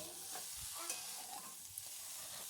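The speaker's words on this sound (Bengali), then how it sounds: "সেগুলো নেড়ে নেব এগুলো ঢেকে প্রায় দশ মিনিটের মতো ভেজে নেব এইভাবে লাল লাল করে" Cauliflower sizzles faintly in a pan while it is stirred, giving soft scraping strokes over a light, even frying hiss, with no talking.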